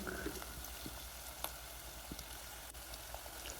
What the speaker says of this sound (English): Now fry, turn them, and let them cook.